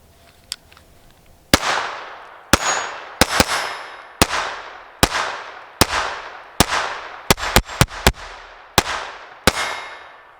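A KelTec P17 .22 pistol fires Herter's 36 grain hollow points outdoors: about thirteen sharp, loud close shots in an uneven rapid string, each ringing off briefly, with no talking.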